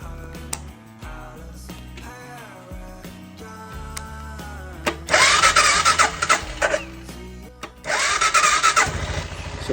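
A 1996 Suzuki Savage 650 motorcycle, with its carburetor freshly rebuilt, cranks with a whirring starter and stutters. It then catches and runs in loud, rough bursts close by, revving up twice.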